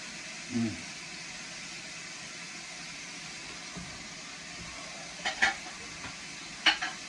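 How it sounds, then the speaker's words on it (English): Celery, onion and carrot stir-fry for fried rice in a pan, a faint sizzle under a few utensil scrapes and clinks, fairly quiet and close. "Now, we're going to stir fry this for probably about a minute."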